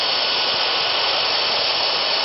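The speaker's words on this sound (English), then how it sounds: "I sand it with a belt sander until I can get it to fit against that wall tight on both sides." A belt sander working the edge of a laminate countertop, a steady loud close whirring hiss holding even for about two seconds, with no talking.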